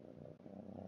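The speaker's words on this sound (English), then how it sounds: "Can you hear her purring?" A domestic cat purrs softly and close, a low rhythmic rumbling that pulses steadily with a brief break midway, quiet and alone.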